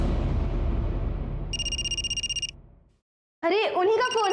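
A telephone rings in short bright bursts over a low rumbling drone, then a voice speaks after a brief silence.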